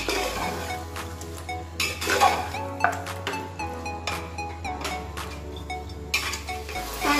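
Mutton being roasted by hand for a homemade Indian mutton curry, with irregular metallic scrapes and clinks of a spoon against a pot over a steady background hum, close and moderately loud.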